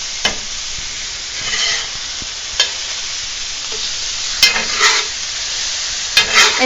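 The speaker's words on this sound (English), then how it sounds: "Now we're going to go ahead and add our meat. And let that start cooking as well." Meat sizzles steadily in a hot frying pan, with a few sharp clatters from stirring now and then, close and fairly loud, with no voices.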